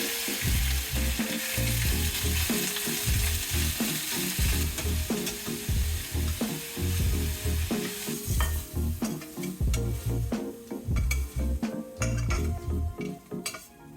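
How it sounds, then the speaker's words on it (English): Chicken pieces land in very hot oil and sizzle in a pan, with repeated stirring scrapes and light clinks of utensil on metal, a busy, close frying clatter throughout. "This oil here is super hot, so I can add the chicken."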